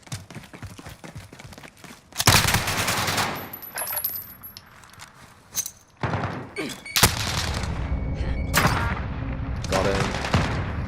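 Uzi submachine gun fire in the video game Call of Duty Modern Warfare comes as sharp, rapid bursts of automatic shots separated by quieter gaps, loud and close, with some faint game sounds in between.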